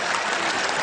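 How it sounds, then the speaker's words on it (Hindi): Audience applause at a kavi sammelan poetry gathering, a dense wash of many hands clapping together, loud and sustained throughout the short moment. "एक बार तालियां बजा दीजिए"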